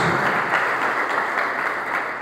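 Steady applause from a church congregation during an Indonesian Christian sermon, a continuous wash of many hands clapping at moderate loudness with no voice over it.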